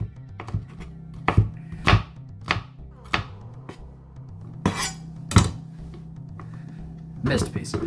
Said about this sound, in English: Line back up and chop the other way.